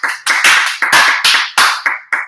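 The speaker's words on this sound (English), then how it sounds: "big round of applause" A small pub quiz crowd gives a big round of applause: a burst of separate, close hand claps in uneven clusters, fairly loud, with no talking.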